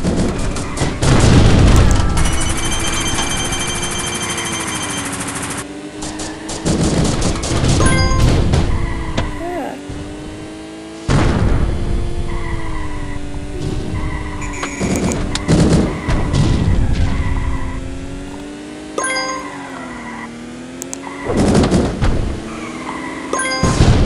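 In the Smash Karts online kart battle game, machine gun fire and explosions sound off as loud repeated booms and rattling bursts over engine drone and electronic game music, with no talking.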